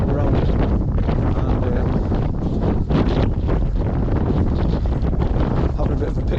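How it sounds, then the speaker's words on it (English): Gusty wind roars across the mic outdoors in wet, damp weather, a constant loud rush with a brief spoken word caught under it. "it's windy as hell"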